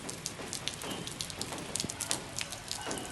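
Monsoon rain falling in Rajasthan, a steady close hiss of drops pattering on surfaces with scattered louder splashes, no voices.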